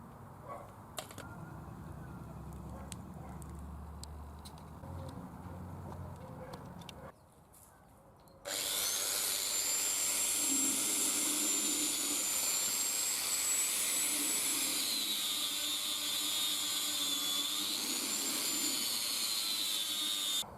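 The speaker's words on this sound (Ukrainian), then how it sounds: "Зачищаю болгаркою е, з чиєї щітки чашообразної летять оці сталюки." After some quiet background, a loud, high-pitched whirring grind starts abruptly and continues steadily: an angle grinder with a wire cup brush cleaning VAZ 2109 car wheels close by.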